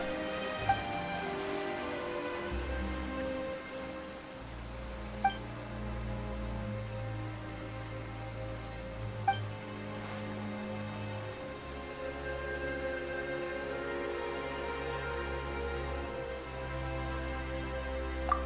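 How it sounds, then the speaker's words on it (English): Rain falls in the video game Genshin Impact, a soft steady patter under sustained, tonal game music. "Why is it raining all of a sudden?"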